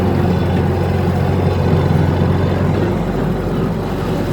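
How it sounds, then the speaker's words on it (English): An antique tractor engine idles at low RPM, a loud, steady low-pitched rumble with a continuous chugging throb, close by and alone. "And this tractor runs real low RPMs."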